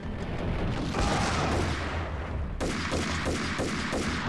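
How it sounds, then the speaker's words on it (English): Gunfire in the game Max Payne, a dense spell of shots and booms followed by a quicker, regular volley of cracks, loud and close with no talking. "Someone shooting at me from down there somewhere?"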